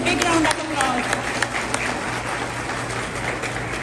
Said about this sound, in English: Please appreciate him with a big round of applause.